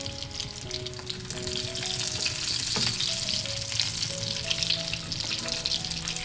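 Spinach and gram flour fritters cook slowly in a pan, giving a continuous close crackling sizzle with small pops throughout and no voices.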